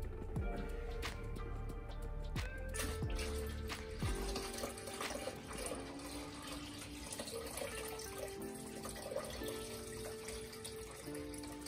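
Liquid poured into a subwoofer enclosure being fabricated, a faint continuous trickling and splashing stream with some clinks early on, quiet and close, no talk.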